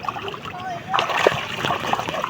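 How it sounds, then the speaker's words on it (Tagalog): Water splashes at the seashore in Lalauhan around sunrise, close and choppy, with a few sharper splashes in the middle while voices talk over it. "Sarap kasing maglandi ng tubig."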